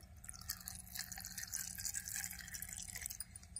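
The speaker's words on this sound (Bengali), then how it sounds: "খেজুরের মধ্যে দিয়ে দেব খেজুর ভেজানো যে জলটা" Soaking water from dates trickles and drips into a bowl of dates, faint, quick splashes over a low background hum.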